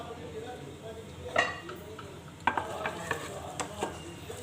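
Salt being mixed by hand into raw mutton for a Shinwari karahi, with a few soft wet squelches and light clinks at intervals against a quiet background, and a voice talking briefly.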